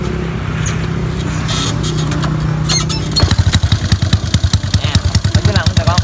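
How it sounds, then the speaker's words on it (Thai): A Honda Wave 110i motorcycle fitted with an aftermarket exhaust catches after a few seconds of background noise and voices, then settles into a loud, close, evenly pulsing idle thump. "สตาร์ทฟังเสียงเดินเบาก่อน"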